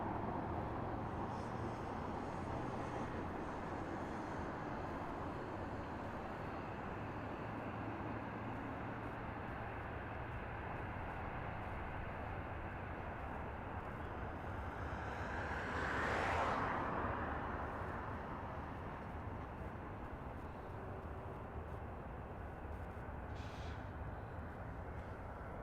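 An Allegiant Airlines airliner taxis toward the runway. A steady distant engine drone carries through the whole stretch and swells briefly about two-thirds of the way in. No one speaks.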